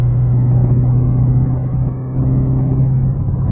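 A Camaro with a new exhaust accelerates gently in sixth gear at highway speed, giving a steady, loud low engine drone and rumble that holds throughout with a brief dip near the middle, with no talking.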